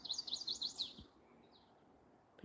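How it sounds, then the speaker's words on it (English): A bird calls outdoors, several quick high chirps in a burst at the start, then a fainter single call a moment later, distant-sounding over quiet background hiss. "I don't see the crow though. I heard him."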